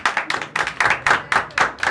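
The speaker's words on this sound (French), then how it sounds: "Il faut applaudir pour Ami." A small group of young people claps in unison for someone on an intercultural youth exchange, loud rhythmic claps in steady bursts of about two or three per beat, close by.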